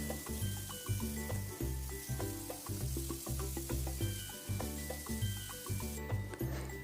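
Chopped vegetables with crushed ginger and garlic sauté in a hot pan, a steady sizzle under rhythmic scraping and stirring strokes.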